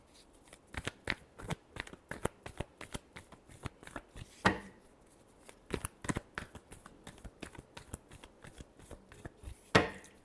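Tarot cards shuffled by hand in a rapid run of crisp riffling slaps and flutters, close and fairly quiet, with a few louder snaps mixed into the steady rhythm and no talk.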